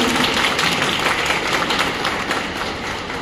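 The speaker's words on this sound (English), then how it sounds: "One more time, a great round of applause to Principal Ma'am." A school audience at a parent orientation program gives the principal a loud, continuous round of applause, a thick wash of many hands clapping that stays strong and fades slightly toward the end.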